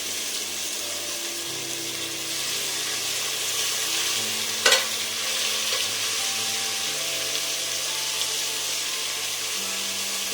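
Onions fry in oil with cardamom, clove, cinnamon and star anise for a mushroom donne biryani, a steady, close hiss of sizzling with one sharp clatter of a spoon midway and faint stirring; no one speaks.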